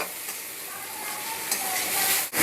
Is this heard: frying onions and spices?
yes